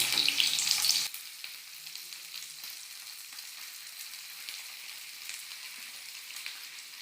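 Continuous soft sizzling of onion and ivy gourd frying in oil, louder with a brief clatter at the start, then a steady gentle crackle.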